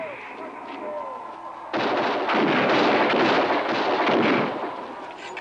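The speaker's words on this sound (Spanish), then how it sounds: "Sigue disparando, amigo." A rifle volley in a battle: a sudden loud roar of many shots fired together that rolls on for a few seconds and then fades, with voices faint underneath.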